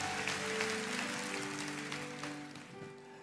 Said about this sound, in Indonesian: Kasih tepuk tangan tuh Tuhan, come on.